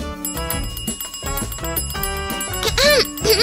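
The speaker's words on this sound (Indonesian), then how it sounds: "Oke, pakai bel aja." A bell is rung to summon someone, giving a few quick, bright rings near the end over lively background music and voices.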